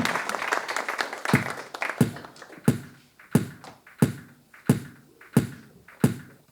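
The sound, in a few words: end of audience applause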